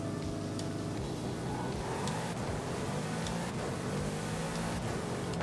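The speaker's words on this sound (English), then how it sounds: "This car sounds weird. See, it's a low revving AMG 12." A low-revving AMG V12 car engine in a video game drones steadily at low revs, a constant rumbling hum with slight variations in pitch and no speech.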